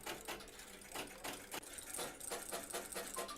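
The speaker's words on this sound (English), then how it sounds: "that's being printed out on the printer" A printer prints out typed text with a steady, rapid mechanical chatter of repeated strikes, loud and close and continuing unbroken with no voices.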